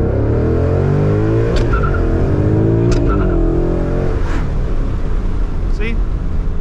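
A Ford Mustang with a short-throw shifter accelerates hard with loud close engine roar and rising revs, tires hooking, as a voice talks over it.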